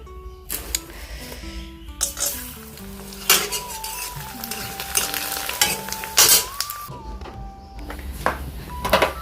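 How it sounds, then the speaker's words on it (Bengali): Papad sizzles and crackles in very hot oil in a pan, with bursts of frying noise, stirring, and clinks of utensils, all close and loud, with no one talking. "আগে পাঁপড়টাকে ভেজে নিই, তেলটা বেশি গরম হয়ে গেছে।"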